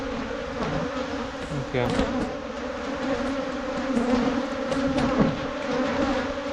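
Honey bees swarm and buzz densely around an open beehive during a frame inspection, making a constant close drone with brief faint speech.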